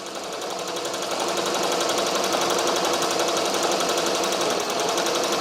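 Ricoma or Barudan embroidery machine stitching a design, a fast even rattling needle rhythm running continuously and close up, no talk.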